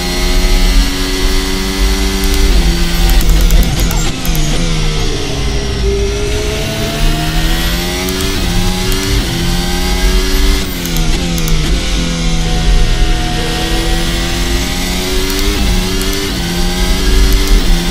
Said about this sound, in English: the most faithfully realistic Formula Hybrid sounds that I have ever heard